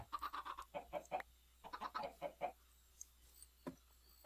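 Chickens in a Minecraft modpack cluck in quick, close bursts of several notes, pausing briefly between phrases, with no talk.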